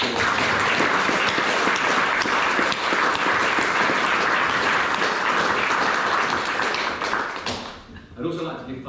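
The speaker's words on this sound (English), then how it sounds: "I think a round of applause." An audience at an adult learners' college presentation breaks into sustained, dense applause lasting several seconds, then it thins out as a speaker's voice begins near the end.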